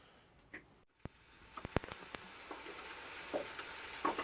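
Bacon for breakfast rolls fries quietly in a pan, a faint low sizzle dotted with scattered small pops and crackles.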